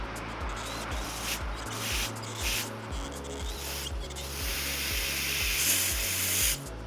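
Carb choke cleaner sprayed in repeated hissing bursts through a Honda Civic fuel injector wrapped in electrical tape, close and loud, under a rhythmic pulsing hum.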